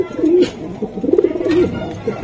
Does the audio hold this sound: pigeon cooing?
yes